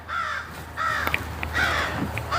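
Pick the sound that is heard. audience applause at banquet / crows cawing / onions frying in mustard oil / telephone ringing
crows cawing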